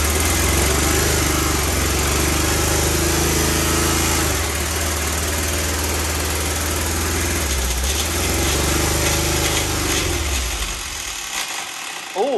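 An old little bus engine runs loud and rough as it is given gas, a buzzing, vibrating drone that holds steady for several seconds and then drops away near the end.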